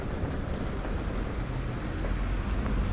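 A PostNL delivery truck rolls past along a quiet Amsterdam canal street, a steady close engine rumble with road noise that holds loud across the whole moment.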